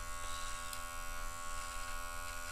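An electric trimmer buzzes steadily while shaping a coarse beard, a faint, close, even hum with slight variations as it moves over the hair.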